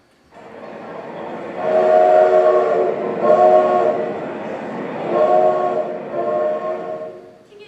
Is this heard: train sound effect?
yes